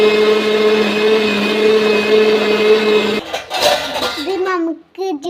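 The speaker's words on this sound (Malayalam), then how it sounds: "ഇത് നമുക്ക് ഈ ജ്യൂസ് അടിക്കാം" A kitchen mixer-grinder whirs loud and steady while blending cooked beetroot juice with milk powder, sugar and water, then cuts off abruptly, followed by clinking and a voice nearby.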